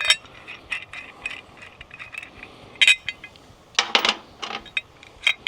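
Steel bolts and lock nuts from a Wolfe Ridge log splitter accessory mount clinking as they are set down one after another, sharp metallic taps scattered irregularly, close and fairly quiet with no talking.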